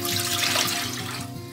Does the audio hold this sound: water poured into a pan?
yes